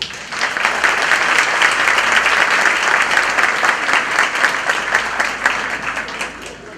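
Sustained audience applause welcoming lecturer Júlio Pompeu at an educational congress of private schools in Espírito Santo, a dense, steady wash of many hands clapping that holds throughout and eases slightly at the end.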